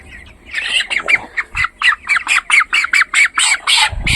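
A 23-day-old broiler chicken weighing about 1.3 kilograms squawks close by, a quick run of a dozen or so harsh, evenly spaced calls in steady rhythm with no voices.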